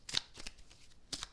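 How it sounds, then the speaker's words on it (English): A deck of playing cards is shuffled close by, giving several quick papery riffling bursts with short gaps between them and no talking. "We have a deck of cards. We shuffle them."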